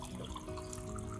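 Water running and splashing steadily as it is poured into garlic water to dilute it, a continuous faucet-like flow with no talk.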